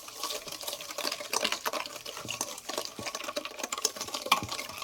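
Yogurt and powdered sugar being stirred together in a bowl for mango sharbat, giving a soft, quick, continuous scraping and wet clicking from the utensil, faint and close, with no voice.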